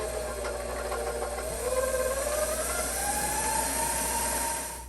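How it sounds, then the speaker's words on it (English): A stand mixer mixes cookie dough with a steady whirring motor hum and a rising pitch as it runs, loud and continuous with no talking over it. "I am going to use my stand mixer for this"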